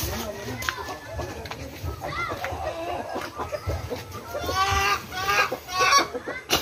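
Chickens cluck nearby in a backyard coop, irregular clucks and squawks mixed with a person speaking over them, growing busier toward the end.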